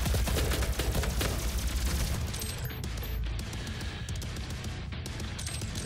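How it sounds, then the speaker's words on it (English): A plasma rifle fires in DOOM, rapid repeated energy shots in a fast, steady burst, loud and close, giving way to scattered impacts and sparkly ringing tails. "Plasma rifle."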